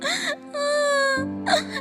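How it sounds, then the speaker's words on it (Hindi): A girl character in an animated devotional story cries with drawn-out wailing, whimpering sobs in a voice-acted moan, close and fairly loud, with no other talk. "इससे खुशी उदास हो गई और रोने लगी।"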